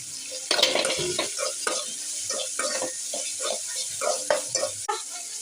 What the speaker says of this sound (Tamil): வெங்காயம் வதங்க பாருங்க வெங்காயத்து கூட நம்ம இப்போ கொஞ்சோண்டு கருவேப்பிலை சேர்த்துக்கலாம்